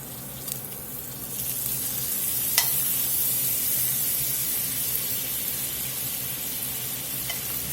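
Half a stick of butter melting and sizzling with onions in a pan for poutine gravy: a steady, close, even crackle with a few faint clicks, no voices.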